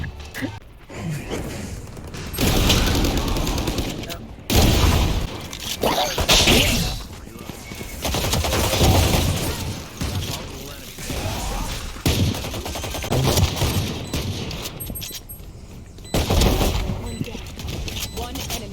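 Repeated bursts of gunfire in Valorant, with loud rapid shots and clattering impacts spread across the stretch, mixed with dense game sounds and occasional talk.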